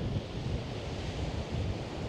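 Waves wash along the Caspian Sea shore at Aktau in a steady broadband surf roar, with wind buffeting the microphone and no distinct individual breakers.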